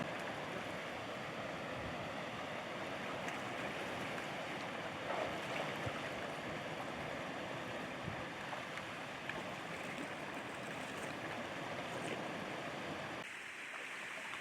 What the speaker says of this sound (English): It's like a little waterfall they made.